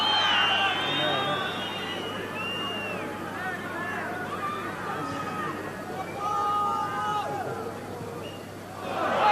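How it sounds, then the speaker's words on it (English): Stadium crowd at a 1991 Rugby World Cup match between France and Canada, a steady loud roar of cheering voices with swells and chants rising and falling throughout. "And the crowd in good voice now."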